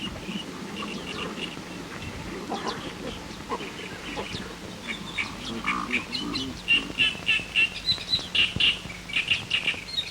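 A pelican colony at its nests produces a busy scatter of calls and chirps, with a run of louder, rhythmic honking calls toward the end. No one speaks.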